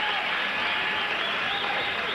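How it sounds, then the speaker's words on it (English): Boxing fans in an arena give a sustained round of applause between rounds, a dense, steady wash of clapping and crowd noise that stays level throughout. "Generous round of applause from the fans here"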